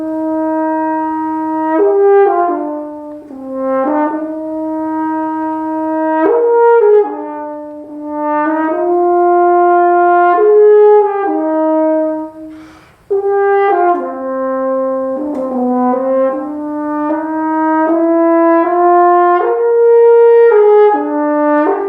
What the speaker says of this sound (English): the sound of my lips buzzing travels through all of these tubes and pipes and comes out of the bell